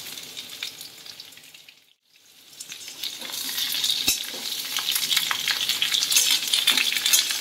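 Vegetable stalks for a mixed vegetable curry fry in hot oil in a pan, a steady sizzle that briefly drops, then swells louder as the pieces go in and are stirred, with light scraping and clinks.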